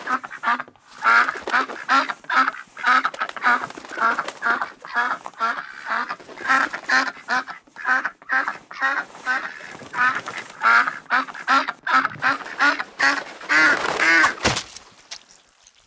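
A recorded duck quacks over and over in a restaurant, loud rapid quacks and honks in bursts with only brief pauses, heard alone with no talk.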